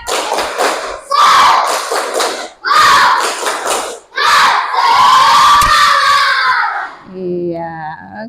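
Class of Indonesian primary schoolchildren loudly shouting a rhythmic group clapping chant in a classroom, several bursts with short pauses between them, ending with a teacher's voice.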